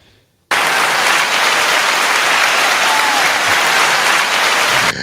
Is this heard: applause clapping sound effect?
yes